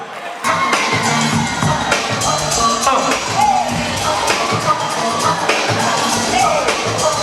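At a fashion week runway dance event, a large crowd cheers and shouts loudly and continuously, with a dense roar of voices and scattered hand claps throughout.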